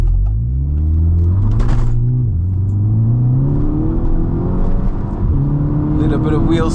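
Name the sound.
VW MK6 GTI accelerating hard from standstill with wheel spin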